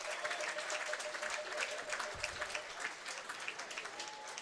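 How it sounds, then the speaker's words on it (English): Steady applause from a large stadium crowd at a football match as an injured player is carted off, a dense wash of clapping spread wide with a brief low thump partway through. "gets a round of applause."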